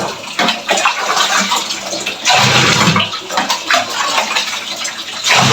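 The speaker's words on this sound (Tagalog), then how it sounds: "Kaya dito muna ako kukuha ng tubig" Running water gushes and splashes loudly into a container, collected at home for washing clothes, with uneven surges and no talking.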